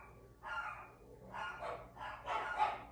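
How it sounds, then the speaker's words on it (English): A dog barks indoors at home in three bursts, moderately close but soft, each burst a cluster of sharp yips and woofs with short pauses between, over quiet room tone. "my dog just started barking"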